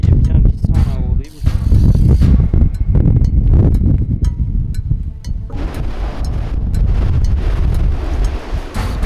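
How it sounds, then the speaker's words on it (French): Loud, gusting wind buffeting the microphone with a low roaring rumble, while a person talks underneath, on a slippery fine-gravel trail of the Kalalau trek. "ici il y a beaucoup de vent."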